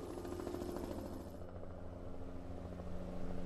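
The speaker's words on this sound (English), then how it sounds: "Is that a helicopter flying through the smoke?" A firefighting helicopter flies through smoke over a forest fire, its rotor and engine a steady, droning roar with a throbbing pulse that holds throughout and swells slightly toward the end.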